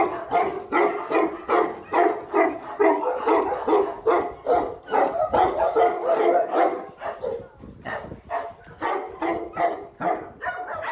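Several dogs bark repeatedly at close range at an animal shelter in Malta, overlapping in bursts of yaps and woofs that continue without pause.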